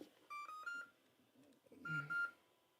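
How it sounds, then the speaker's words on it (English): A few short electronic beeps from an electronic speed controller in programming mode, steady tones grouped in pairs with brief gaps, fairly faint with low background noise. "And I got to wait for 4 beeps."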